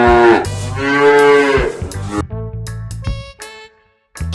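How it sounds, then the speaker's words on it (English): A cow moos loudly in two long drawn-out calls, close and clear, over a low steady musical backing with no talking. "Cow."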